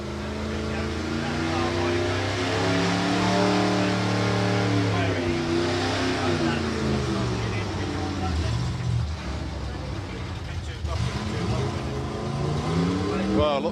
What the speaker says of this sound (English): lots of burnouts going on underneath us